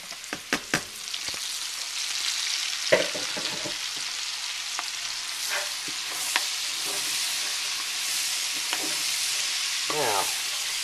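Bacon and vegetables for Manhattan clam chowder stir-frying in a pan: a few sharp utensil clacks at the start, then a continuous hiss of frying with scattered scrapes and stirring knocks, close up, no voices.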